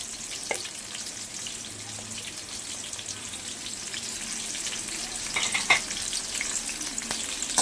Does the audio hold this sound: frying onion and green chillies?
yes